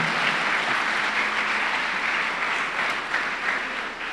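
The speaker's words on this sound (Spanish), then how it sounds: "¿Le puede dar un aplauso al Señor?" A church congregation applauds the Lord in a steady, even burst of many hands clapping, moderately loud and sustained, easing off slightly toward the end.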